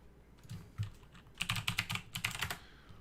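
Fast typing on a computer keyboard: quiet, close clusters of key clicks in quick irregular bursts, with no voices.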